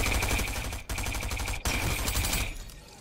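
Sustained, loud rapid-fire gunfire from a Fortnite battle royale match runs almost continuously, broken by two brief pauses, with no talking.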